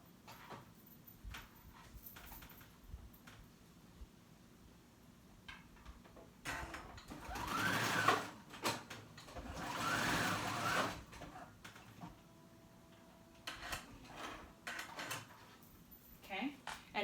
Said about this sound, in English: I'm going to overlap them 1/4 of an inch and zigzag stitch them together